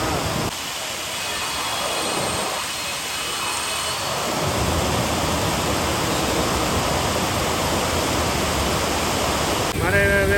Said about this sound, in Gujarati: ધોધમાર વરસાદ.